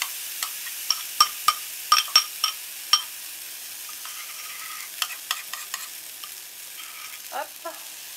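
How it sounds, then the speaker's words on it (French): Galette batter goes into a hot frying pan, opening with a run of sharp crackles and pops over a soft sizzle, then scattered fainter spatters and a brief scrape near the end. "je verse dans la poêle chaude"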